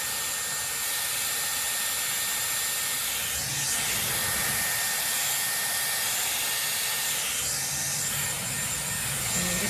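A Dyson Airwrap styler with 30 mm barrels blows a steady, close rush of airy hiss while drying a fringe, with slight shifts in tone as it moves through the hair.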